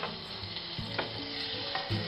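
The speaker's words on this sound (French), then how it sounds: "Ajoutez maintenant le beurre afin de procéder à la décuisson du caramel." Butter sizzles steadily as it is added to caramel for a tarte tatin, a continuous, fairly quiet frying hiss with occasional stirring knocks in a kitchen.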